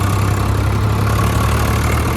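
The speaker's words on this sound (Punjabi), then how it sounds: "ਡੀਜ਼ਲ ਪਾਣ ਲੱਗ ਗਿਆ ਨਾ ਗਰਪਿਆਰ ਵਾਲੇ ਟਰੈਕਟਰ 'ਚ" A tractor's diesel engine idling at a fuel stop while diesel is pumped in, a loud, close, steady low rumble with an even throb and no talking.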